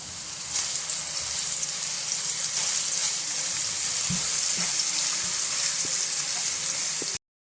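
Onion frying in a pan until light brown, a steady close sizzle with occasional soft pops and stirring scrapes, heard alone throughout.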